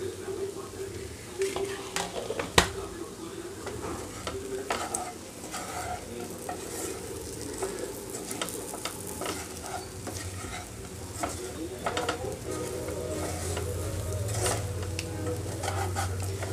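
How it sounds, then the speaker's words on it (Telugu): Eggplant masala fries uncovered in a pan with a steady low sizzle, broken by occasional sharp clicks and taps of a utensil against the pan; close and fairly quiet throughout. "మూత పెట్టకుండా ఇలా ఒక రెండు నిమిషాలు వేగనిద్దాం"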